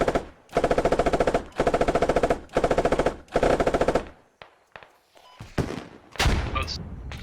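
A vehicle's coaxial machine gun fires in the game Squad in four loud sustained bursts, followed by scattered shots, impacts and distant gunfire.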